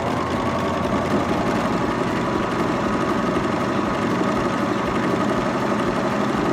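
A Baby Lock Vibrant sewing machine runs steadily while stitching rolled-edge pintucks, giving a continuous, close, even mechanical hum with a fast rapid-fire needle rhythm throughout.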